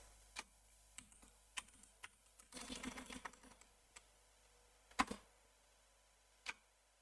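Scattered keystrokes on a computer keyboard while entering a server command and password, isolated clicks with a brief rapid flurry of typing in the middle, faint and close in a quiet room.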